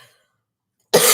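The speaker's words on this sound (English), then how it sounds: "my cough is still there" A woman's single sharp cough bursts in abruptly after near silence, loud and close, with a harsh throaty rasp.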